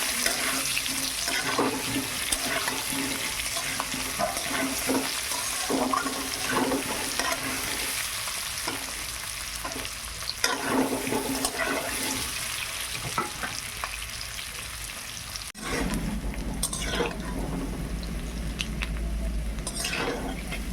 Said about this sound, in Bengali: এবারে ভেজে নেব ভালো করে।